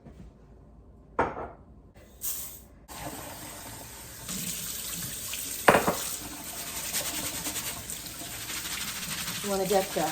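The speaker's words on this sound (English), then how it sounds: "I'm gonna wash some rice." Tap water running into a sink while rice is washed, a steady rush broken by splashes and swishes of the grains, with a person talking briefly over it.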